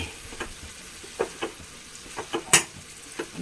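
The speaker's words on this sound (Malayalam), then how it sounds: "നമ്മുടെ പയറുപ്പേരിയൊക്കെ ഇവിടെ റെഡി ആവുന്നുണ്ട്. വെന്തിട്ടില്ല, ഒന്ന് ഇളക്കി കൊടുക്കാം." Payar upperi, a bean stir-fry, is stirred in a cooking pan, giving a run of soft scraping strokes spread across a few seconds, with one sharper clink near the middle and a light sizzle underneath.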